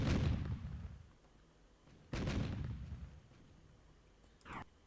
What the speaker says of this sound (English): Okay, we've got a rocket barrage.